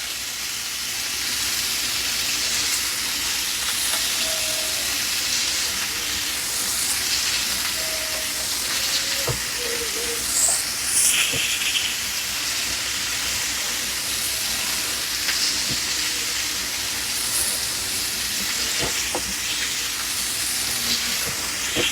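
Fish fries in grease in a pan for fish tacos, a steady loud sizzle and hiss that runs without a break, with faint clinks of utensils now and then.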